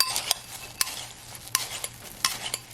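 Melted butter and crushed pretzel pieces are stirred in a dish, four sharp scraping clinks of a utensil at a regular pace over a soft crunchy rustle, close and with no voices.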